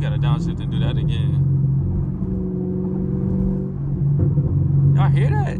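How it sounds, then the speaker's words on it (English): A Chevrolet Camaro SS exhaust rumbles and crackles with pops on a downshift in fifth gear while driving downtown Atlanta, a close low drone broken by short sharp bursts near the start and end, with voices talking over it. "it's crazy that I can get my car to pop in fifth gear"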